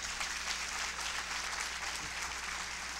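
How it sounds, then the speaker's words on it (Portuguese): Applause from a church congregation at a cell vision congress, a brief burst of dense, even clapping that is moderately loud and carries on without a break. "Uma salva de palmas para os meus discípulos aqui."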